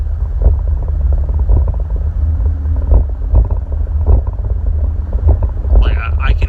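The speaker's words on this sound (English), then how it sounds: "You can hear it kind of idling down there around." A 2017 Dodge Ram with the 3.6L V6 Pentastar and a cold air intake idles, its low steady rumble heard from inside the cab while someone talks over it.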